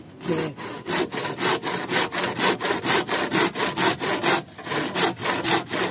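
A hand saw cuts through bamboo in quick, even back-and-forth strokes, each a loud rasping burst, repeating about three times per second, close and alone without talk.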